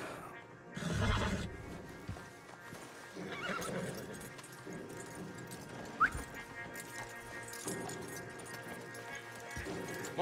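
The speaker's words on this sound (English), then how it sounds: "Javier, you're gonna lead the stallions" Horses in the video game Red Dead Redemption II give a loud close neigh near the start, then further whinnies and clip-clopping hooves. Faint game ambience and a brief sharp knock sit beneath.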